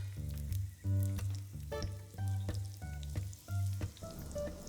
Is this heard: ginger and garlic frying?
yes